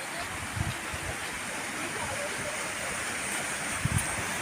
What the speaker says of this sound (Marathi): नदी चालली आहे.